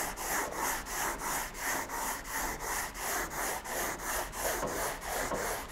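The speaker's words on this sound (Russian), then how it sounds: "Посмотрим, как себя ведет шпатлевка на наждаке." Sandpaper of 120 grit worked by hand over spray-applied putty filler: even, rhythmic back-and-forth rasping strokes, about two per second, close and continuous, with no talking.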